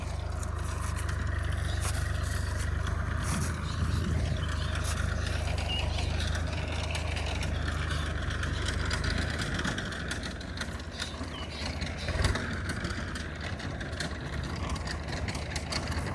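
A tractor engine runs in a potato field during seed-potato harvesting, a steady low, throbbing drone that holds at an even level across the whole stretch, with no voices.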